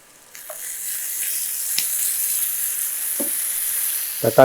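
Onions and tomato frying in a pan over high flame, a close, continuous crackling sizzle with a few soft clinks of stirring and no talking.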